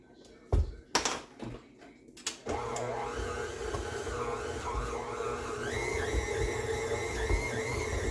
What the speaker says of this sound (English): I've never kneaded with my mixer